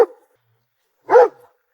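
A single short, close dog bark stands out in otherwise silent surroundings, with a brief clipped burst right at the start.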